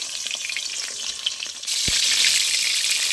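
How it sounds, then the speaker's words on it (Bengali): Pointed gourd (potol) pieces frying in hot oil: a steady broadband sizzle that jumps louder about halfway through, with a single sharp knock near the middle, close and continuous with no talking. "পটলগুলো আগে ভালো করে ভেজে নেব। আগে থাকতে নুন দেবো না"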